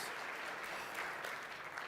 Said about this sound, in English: I think we can give a nice round of applause